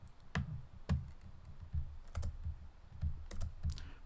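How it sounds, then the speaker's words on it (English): Keys are tapped on a computer keyboard, including the spacebar, as a series of soft, close thumps at irregular intervals, quiet and with no talking. "Pressing the spacebar"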